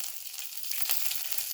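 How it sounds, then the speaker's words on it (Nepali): Cumin, red chili and garlic sizzle and fry in hot oil, a steady close crackle with no voices. "अब चाहिँ हामी जिरा फ्राई गर्छौँ अलिकति, अनि एउटा चाहिँ रातो खुर्सानी"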